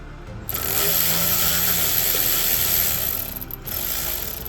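A ratchet works on a bolt on a bracket of a BMW S63 twin-turbo V8 during a high-flow manifold installation, giving a steady close mechanical buzz that runs for about three seconds, pauses briefly, then resumes, with no talk.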